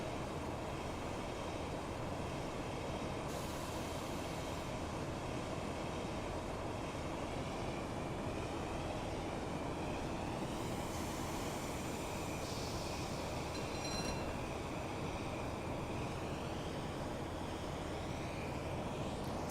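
Diesel train engine idling on the Huddersfield Line in Train Sim Classic: a steady, loud, continuous engine drone with constant broadband rumble, heard alone without talk.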